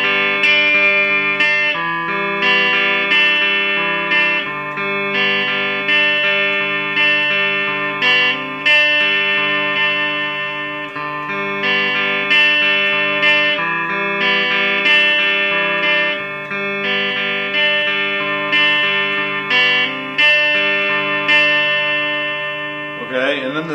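An electric guitar plays a riff slowly in drop D tuning, sustained chords and single notes ringing steadily and close with a light distorted edge, continuous and alone.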